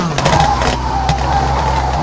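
Rally car in the WRC 3 video game throwing a handbrake turn on the 2012 Rallye Monte-Carlo stage, with a loud, close engine roar and tyre scrub holding steady through the slide.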